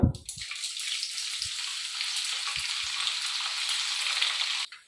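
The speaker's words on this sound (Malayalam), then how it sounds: "പിന്നെ കടുകും ഉഴുന്നും കൂടെ പൊട്ടിക്കുക" Loud, steady sizzling of mustard seeds and urad dal popping in hot oil, with a few soft thumps underneath, continuing for several seconds before stopping abruptly.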